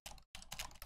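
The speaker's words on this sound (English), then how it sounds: "Right now, I'm just typing this message." Rapid keystrokes on a computer keyboard, a close, busy clatter of clicks that breaks off briefly and then resumes, with no voices.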